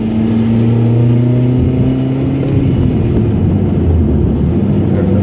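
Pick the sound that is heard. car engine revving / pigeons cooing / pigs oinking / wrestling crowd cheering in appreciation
car engine revving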